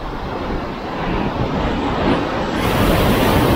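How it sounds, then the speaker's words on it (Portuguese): Ocean waves breaking against a rocky shore near Lisbon where someone is fishing, a loud continuous roar of surf and wash that swells slightly toward the end, with no voices. "Aquela onda que vem ali, vou ter que fugir"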